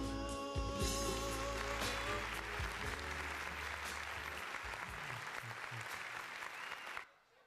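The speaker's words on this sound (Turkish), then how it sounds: "alkışlar gelsin damadımıza, gelinimize" Wedding guests at a celebration in Hamburg applaud the bride and groom with sustained, dense clapping, accompanied by music at the start, before the sound cuts off abruptly near the end.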